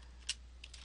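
Brief, faint keystrokes on a computer keyboard during data entry, a sharp tap followed by two lighter clicks, close and otherwise quiet.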